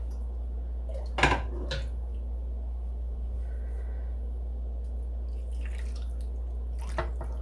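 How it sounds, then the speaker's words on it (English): Water is added to a pan holding wool roving for dyeing, with a couple of short splashes and drips and faint clinks against a steady low hum, no voices. "let's give it a little bit more water."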